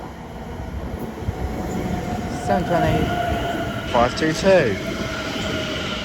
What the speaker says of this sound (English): As incoming now is the 12:25. Greater Anglia service to Ipswich.